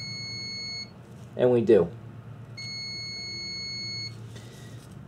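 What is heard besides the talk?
continuity tester beep on EVAP sensor harness connector terminal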